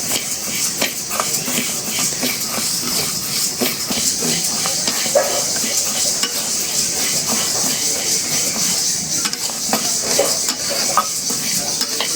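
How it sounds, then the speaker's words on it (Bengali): Atap rice sizzles steadily in a hot pan for khichuri while a utensil scrapes and clicks against it in an irregular stirring rhythm. "চালটা ভাজা হয়ে গেল"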